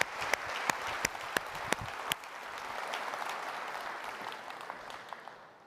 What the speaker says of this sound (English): So let's give a big round of applause to Alejandro and Chris.